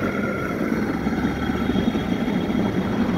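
A worn bearing in an electric bike hub motor gives a steady, rough, grinding rumble while the motor plate is turned by hand, continuous and fairly close throughout.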